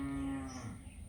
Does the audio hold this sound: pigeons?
no